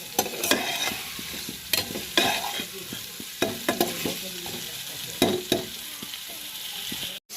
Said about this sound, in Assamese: এনেকৈ বিলাহীখিনি গলি যোৱালৈকে অকণমান ভাজি ল'ম।